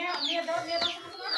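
A rooster makes short, clucking calls at close range, several in quick succession, each with a falling pitch.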